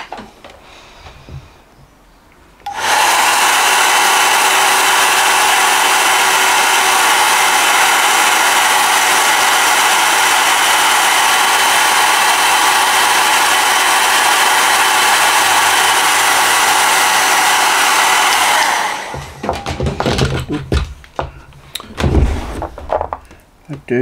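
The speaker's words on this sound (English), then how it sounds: "I'm going to blast it with a hairdryer" Hairdryer blasting air over a freshly painted miniature figure, a loud steady broadband roar that starts abruptly, holds evenly for about sixteen seconds, then cuts off into quieter handling noises.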